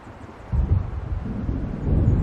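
A thunderstorm builds in the Alan Wake Remastered video game, with a low rolling rumble that swells suddenly and stays heavy over a wind-like wash, loud and unbroken, without voices.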